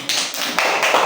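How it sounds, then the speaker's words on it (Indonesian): A class applauds in a classroom after a group presentation, a brief dense burst of many hands clapping together, close and fairly loud. "beri tepuk tangan sekali lagi"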